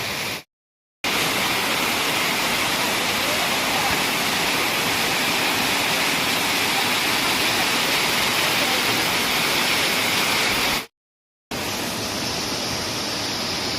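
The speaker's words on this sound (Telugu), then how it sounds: "ఆ వాటర్ ఫాల్ మళ్ళీ ఇలాగే వచ్చి ఇలా ఇక్కడ మళ్ళీ ఇక్కడ కిందకి అయితే పడుతుంది" Tirathgarh Falls in a Chhattisgarh forest roars in a steady, loud broadband rush of falling water, continuous apart from two brief gaps of silence.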